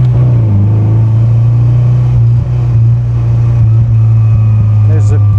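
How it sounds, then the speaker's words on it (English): A Triumph TR4A four-cylinder roadster gives a loud, close, steady exhaust drone that holds a constant low throbbing note, with small wavers and one brief dip. "The exhaust note is really impeccable, and especially for a 4-cylinder"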